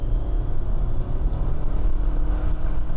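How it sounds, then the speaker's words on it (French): A Toyota RAV4 family SUV with a continuously variable transmission accelerating hard in sport mode with a window open gives a steady, linear engine drone with no gear shifts, loud and low over road rumble. "on a ce bruit qui est linéaire parce qu'on n'a aucun passage de rapport avec cette boîte"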